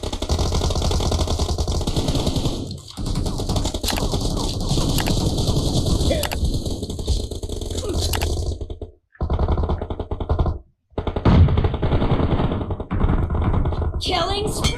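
Sustained spray of M416 rifle fire in PUBG Mobile, a continuous rapid rattle with brief gaps near the end, heard alongside game effects and announcer-style speech.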